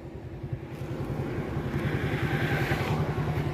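An old Suzuki Shogun Kebo motorcycle that had sat unused for a long time, its engine running with a low, uneven throb that pulses and stumbles slightly as it rises and holds near the listener.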